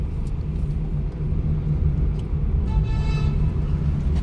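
Pickup truck descending a winding hill road, a steady low engine rumble with road noise, loud and continuous throughout.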